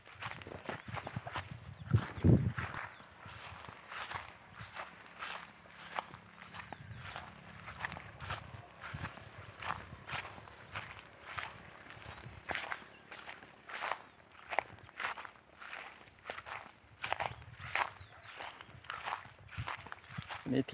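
Footsteps walking back across a rice field, a steady series of soft crunching steps close to the microphone, with someone talking intermittently over them.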